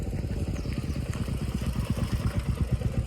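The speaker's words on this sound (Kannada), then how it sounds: "ಬೈಕ್ಸ್ ಬರ್ತಾನೆ ಇದ್ದಾವೆ." Motorcycles arrive with a steady, close, low engine rumble at a roadside coffee stop on a breakfast ride to a hill temple, pulsing continuously throughout with no voices.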